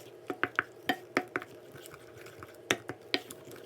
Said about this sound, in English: I'll show you what it looks like as I'm stirring